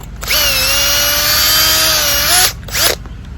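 A power drill whirs loudly and steadily for about two seconds while boring a hole during a pool skimmer net repair, then winds down before a brief second burst, close up and without talk.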